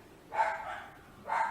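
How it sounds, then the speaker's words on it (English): Two muffled dog barks a little over a second apart, somewhat distant and moderately loud, with quiet between them. "sorry if you can hear my dog barking."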